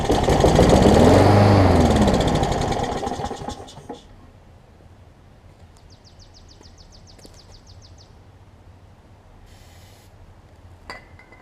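A Briggs and Stratton Quantum push mower engine fires on starter fluid and roars loudly for about four seconds before dying away, followed by quiet and a few faint metallic clinks.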